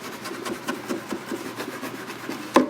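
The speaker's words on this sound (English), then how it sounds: "Just rub. You don't have to rub very hard." Paper label residue is rubbed off a plastic container in close, scratchy, rasping strokes with a steady back-and-forth rhythm, ending in a sharper scrape.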